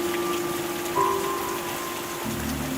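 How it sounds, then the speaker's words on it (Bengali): Steady rain pattering on a surface at night, with light gusty wind, a continuous soft hiss throughout and a faint tonal hum in the background, no voices. "দুই চার ফোঁটা বৃষ্টির পানি"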